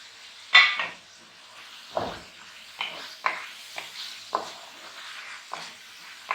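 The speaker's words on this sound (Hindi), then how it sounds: "ये चिकन भी हम साथ ही डाल देंगे, वो भी भून जाएगा।" Chicken frying in a pan of masala with green chillies, a low sizzle broken by a series of sharp stirring scrapes and spoon knocks at uneven intervals, close by, no talking.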